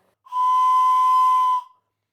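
A whistle carved from a carrot is blown harder, giving one steady, loud, breathy tone that holds for over a second before cutting off, close to the listener.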